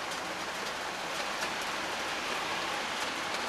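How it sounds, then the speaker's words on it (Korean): Steady rain falls outside, a constant dense hiss with no breaks, heard from indoors. "밖에 비가 와요. 소리가 나."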